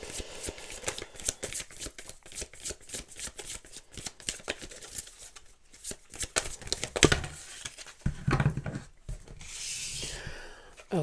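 Rapid riffling and flicking of a Starseed Oracle card deck being shuffled by hand, close and crisp in irregular bursts, with a soft rustle toward the end.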